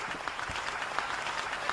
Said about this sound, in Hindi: तालियां बजाओ, यहाँ पे तालियां बजती।